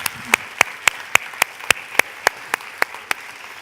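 Applause for a panel at an NSWNMA talk comes through as a run of about a dozen crisp, evenly spaced claps, loud and close, with a light murmur beneath.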